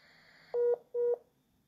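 Touch-tone telephone keypad dialing while placing a normal call: two clear, loud beeps of about a fifth of a second each, spaced roughly 0.2 seconds apart, preceded by a fainter steady tone.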